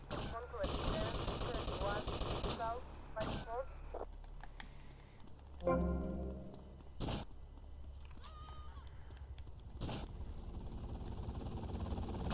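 Sniper gunfire rings out in GTA Vice City Definitive: several sharp, loud single shots spaced a few seconds apart, mixed with other clicking and mechanical game sounds in between.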